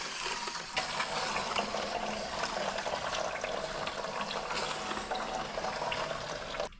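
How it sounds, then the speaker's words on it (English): Transmission fluid drains from a Ford E4OD transmission on a 1996 F-250 with a 460 into a bucket, a continuous close splashing trickle mixed with faint mechanical rattles, with no talking. "All our fluid's going to come out, but that's all right. We got our bucket here."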